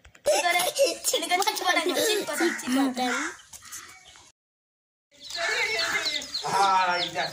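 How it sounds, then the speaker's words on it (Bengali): Three chickens tossed down together cluck and squawk loudly at close range, mixed with people talking, followed by a brief silence before more squawking and voices. "ওই লোকটা কি তিনটে মুরগি একসাথে ছুঁড়ে ফেললেছে"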